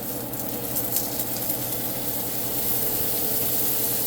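Steak sizzles steadily in a hot pan, a close, even, hissing crackle that holds at a constant moderate level with no voices.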